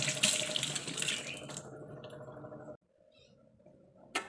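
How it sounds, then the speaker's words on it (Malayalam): Bitter gourd being washed under a running kitchen tap, with water rushing steadily and loudly up close for nearly three seconds, then cutting off abruptly to a quiet, faint trickle. "ഇത് ഇങ്ങനെ തന്നെ കഴുകി എടുക്കണം നല്ലവണ്ണം"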